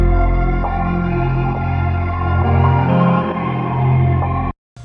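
A dense, dark music loop plays in FL Studio, with thick low bass, layered sustained tones and faint rhythmic accents, loud and continuous before cutting off abruptly near the end.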